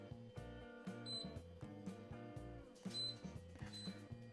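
Repeated electronic beeps from a new built-in cooktop in a rhythmic pattern, roughly one per second, with tonal chimes over a faint background hum as water comes to a boil.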